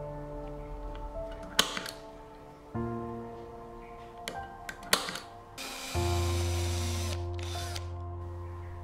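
A power drill bores into an HMR board through a toggle clamp used as a template, whining in short bursts with brief clicks between, then running steadily for a few seconds near the end, close and moderately loud.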